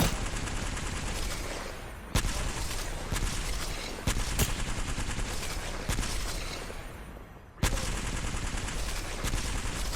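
Bursts of automatic gunfire in the Apex Legends arena mode fill the scene, loud and continuous with brief pauses and sharp individual shots breaking through the dense firing.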